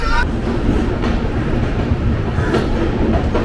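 A train leaving Kolkata station rumbles and rattles steadily on the tracks, a continuous loud clatter with faint rhythmic clicks of wheels.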